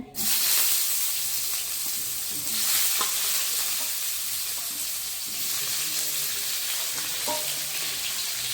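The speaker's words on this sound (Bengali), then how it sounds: "এখন আমি কেটে রাখা আলুগুলো ভেজে নেব" Steady, loud sizzling of cut potatoes frying in oil in a wok, a continuous hiss with occasional faint clinks from stirring.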